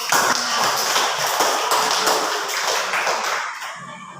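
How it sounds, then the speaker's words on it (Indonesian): Students in a classroom clap together, a busy, uneven patter of hands that stays fairly loud throughout and thins out just at the end. "Kita beri tepuk tangan untuk"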